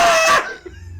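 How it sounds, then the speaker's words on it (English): Chickens cackling, a brief loud, dense burst of fowl calls that fades within half a second into faint room noise. "Do we hear chickens?"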